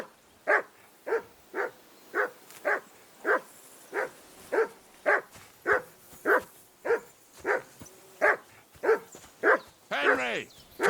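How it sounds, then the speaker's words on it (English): A dog in the video game Kingdom Come: Deliverance II barks steadily and close, about twenty evenly spaced woofs, ending in a short whining yelp. "call that dog to heel"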